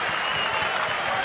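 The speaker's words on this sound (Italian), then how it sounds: "l'applauso dello stadio" A football stadium crowd at a Juventus match applauds Cristiano Ronaldo's attempted bicycle kick, heard as a brief, dense wash of steady clapping with no voices.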